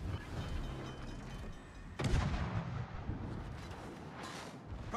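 Warship guns fire in World of Warships with a heavy booming salvo, a sharp loud blast midway over a constant low engine and sea rumble, followed by rolling reverberation.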